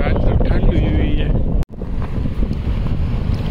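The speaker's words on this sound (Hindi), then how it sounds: "क्या हवा चल रही है जद्दे में" Strong wind blowing outdoors in Jeddah on a cool, rainy day, a steady broadband rush buffeting the microphone for the whole stretch, with a brief dropout midway and a person talking underneath.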